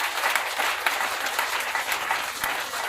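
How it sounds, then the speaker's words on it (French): A church congregation applauds loudly and continuously at a revival preaching service, dense even clapping close by, with faint voices underneath. "Acclame très fort Jésus."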